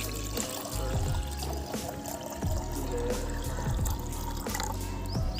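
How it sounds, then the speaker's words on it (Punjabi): Water poured onto a freshly cleaned patch of ground, an uneven splashing trickle with bursts and drips, alongside low rumbling background noise outdoors. "ਹੁਣ ਇਹ 'ਚ ਪਾਉਣੇ ਆ ਪਾਣੀ।"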